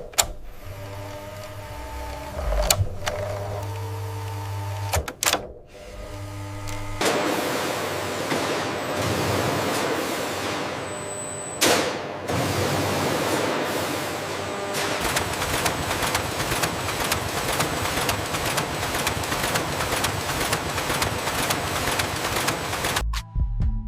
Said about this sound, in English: nylon winding begins to give the volleyball its strength and structure